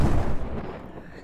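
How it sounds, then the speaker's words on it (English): A single bomb explosion in Totally Reliable Delivery Service lands as a loud, close, deep boom and then rumbles away over about a second. "It was a bomb. Everybody, it was a bomb."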